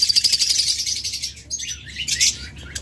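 A breeding pair of pet birds chirps close by in quick, bright bursts of repeated tweets, with short pauses between the calls and no voices over them.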